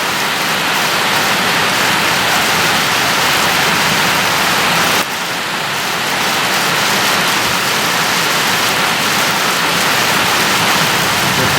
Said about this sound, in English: It's good downpour.